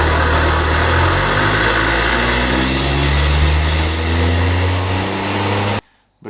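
A Toyota GR Yaris engine fitted with a cold air intake revs loudly with rising and falling pitch, a throaty induction roar close by, cutting off abruptly at the end.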